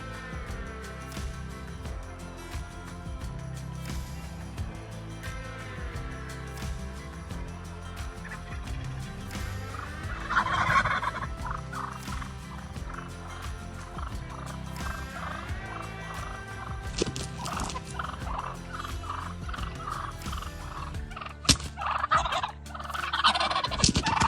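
Wild turkeys, both jakes and toms, gobble repeatedly, with loud rattling calls overlapping and answering each other at close to middle distance over a steady outdoor background.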